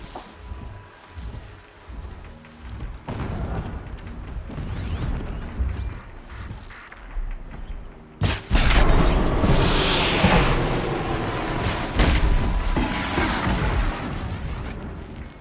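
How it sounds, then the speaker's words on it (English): Distant explosions rumble and boom in a low, rolling wash, then a sharp louder blast hits around the middle and is followed by sustained roaring noise. "Explosions in the distance."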